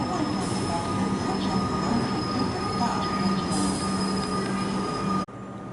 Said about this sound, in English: And here comes my train.